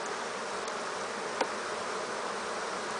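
Honey bees buzz around an open hive as frames are moved, a soft steady hum close by with one brief faint knock partway through, no voices.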